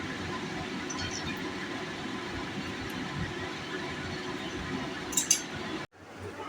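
Oil sizzles in a pan as gadal (gandhapatali) leaf paste is cooked. A steady, fairly quiet hiss runs throughout, with a few light clinks near the end before it cuts off abruptly.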